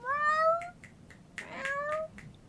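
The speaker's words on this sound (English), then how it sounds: "What does the cat want?" A house cat meows twice, with two drawn-out rising-and-falling calls separated by a short pause. The calls are close and clear over a quiet room.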